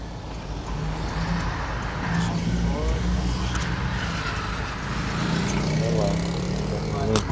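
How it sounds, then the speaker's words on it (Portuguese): Steady traffic on a busy city avenue in late afternoon, cars and a motorbike rumbling continuously at close range with engine drone throughout, no pauses. "Aqui cheio de veículos."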